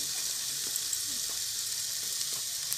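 Masala for Nayagarh-style mutton curry fries in a pan with a dense, steady high sizzle and a few faint stirring scrapes, close and continuous.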